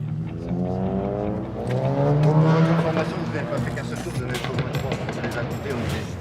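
A loud motorcycle engine revs in a parking lot near a high school at night, its rising and falling roar close and harsh, with someone talking over it.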